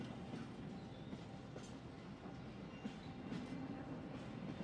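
In the Hitman video game, a train car rumbles along with a low, steady rolling drone and faint clacking of wheels, quiet and continuous.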